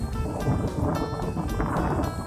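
A storm wind blows through eucalyptus trees in Akat Amnuai district, Sakon Nakhon, producing a loud, gusty roar with rhythmic surges and buffeting against the microphone.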